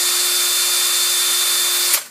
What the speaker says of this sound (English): we're going to drill a hole with a 1/16 drill bit in the butt